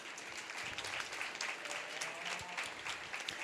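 Steady applause from a crowd at a county fair cattle show, honoring the exhibitors; dense, continuous clapping that holds at an even level throughout, with a faint low thump or two beneath.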